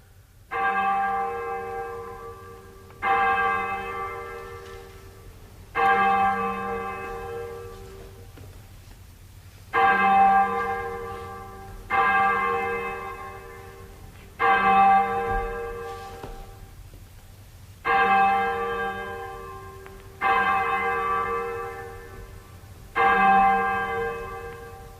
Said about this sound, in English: Hezekiah, sound the 9 tailors.